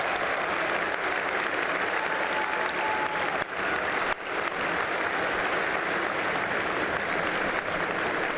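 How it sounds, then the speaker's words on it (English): A large gathering of South Carolina Corps of Cadets applauds with sustained, dense clapping that holds at an even loudness from start to finish. "Give all of yourselves a round of applause."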